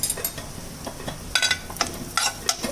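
Vegetables sautéing in a pan with Italian seasoning and oregano; a soft continuous sizzle punctuated by several sharp utensil taps and stirring clicks, close, with no talk.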